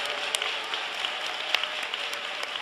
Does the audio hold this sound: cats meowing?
no